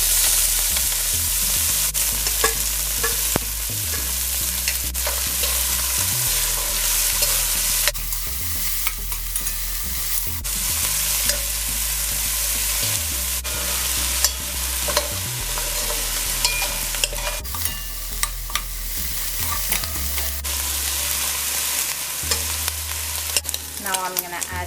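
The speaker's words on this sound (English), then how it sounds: "My oil is hot. I'm going to add the shrimp." Shrimp dropped into hot oil for Guyanese sijan bagee, crackling and sizzling loudly and continuously up close, with repeated stirring scrapes and clatters breaking through the fry.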